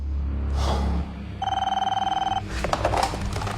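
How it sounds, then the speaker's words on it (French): Telephone ringing with a steady electronic trill lasting about a second, loud and close, between other indistinct room sounds before and after. "Et puis le téléphone a sonné."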